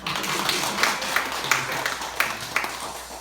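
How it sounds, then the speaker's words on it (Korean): A church congregation claps together during a service, a steady patter of many hands with a few sharper claps standing out, fairly close and moderately loud. "우리 한번 박수 한번 할까요?"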